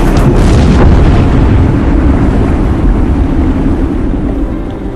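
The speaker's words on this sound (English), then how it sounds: "The wreck of the 19th century Antoinette is destroyed by the force of the explosion." Underwater demolition charge blowing apart the 19th-century wreck of the Antoinette off the coast of England: a loud, sustained low rumbling roar with churning water, fading slowly over several seconds, no voices.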